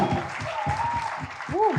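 Audience applause at a televised stage show, a steady wash of clapping under tonal music and background voices, moderately loud throughout.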